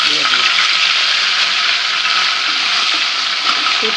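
Dried fish fries in oil in a wok, a loud, steady sizzle filling the whole stretch with no pauses and no talking.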